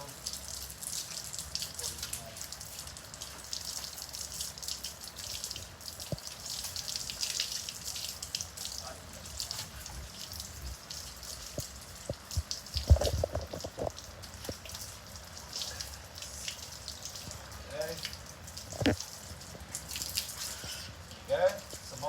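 Water runs and splashes steadily while a cat is washed, a soft continuous trickle with occasional louder drips and knocks, and a voice speaking now and then.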